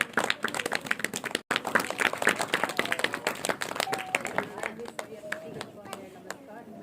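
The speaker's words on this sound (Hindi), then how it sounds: "तो ईश्वर का जोरदार ताली से स्वागत।" An audience at a Republic Day school celebration claps to welcome a student speaker, with dense close applause across the clip, thinning toward the end, and voices mixed in.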